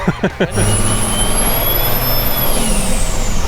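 A Cummins diesel swapped into a 1978 Ford Ranger revs hard, a loud, close engine roar with a high turbo whistle that climbs, holds and then eases off, after a few brief thumps at the start.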